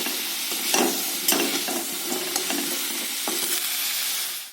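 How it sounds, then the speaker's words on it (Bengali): Potatoes fry in hot oil in a pan, giving a steady loud sizzle close up with occasional spatters and stirring clicks. "লাল লাল করে আলুটা আমি ভেজে নেব।"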